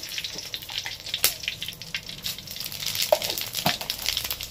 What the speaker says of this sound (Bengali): তেলটা পুরোপুরি গরম হয়ে গেছে, এবার এর মধ্যে দিয়েছি ফোড়ন।